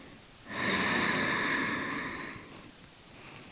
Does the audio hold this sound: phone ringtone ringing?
no